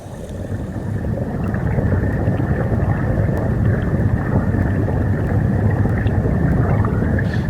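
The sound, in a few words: muffled underwater fluid sound from hydrophone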